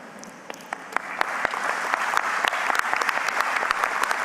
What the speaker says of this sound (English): Please give these folks a serious round of applause.